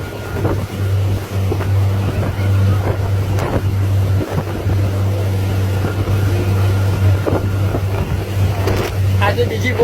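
A motorboat engine drones steadily and loudly throughout, with a low constant hum, wind buffeting and water noise around it, and faint voices mixed in.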